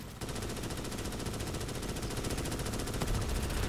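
Sustained rapid machine gun fire from the video game Starship Troopers: Extermination, a dense continuous burst running loud and steady throughout with no talking over it.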